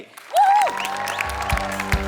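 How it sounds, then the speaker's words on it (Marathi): Clapping from a studio audience at a comedy show's lifetime achievement award ceremony swells quickly, accompanied by a rising whistle-like tone and fanfare music, loud and close. "एकदा जोरदार टाळ्या झाल्या पाहिजे त्यांच्यासाठी."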